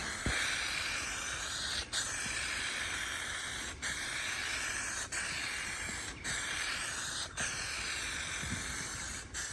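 A spray can coats a car part for a 1968 Ford Mustang in trim black, a close continuous hiss broken by short regular pauses between passes, with no voices.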